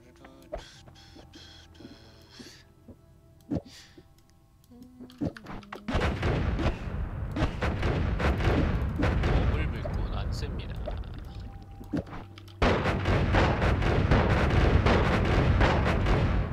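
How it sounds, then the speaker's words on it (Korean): Corpse explosions in the video game Noita, a dense barrage of booming blasts and crackling bursts that starts abruptly and continues loud and sustained after quieter in-game clicks and tones, with a voice talking over it. "저기 사망시 폭발합니다"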